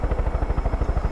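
Helicopter flying near a small drone, a rapid, steady rotor thumping pulsing several times a second, loud and close, with a broad engine whine over it and no voices.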